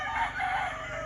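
A fighting rooster crows in a fly pen, one brief drawn-out call heard at moderate distance, with no talk over it.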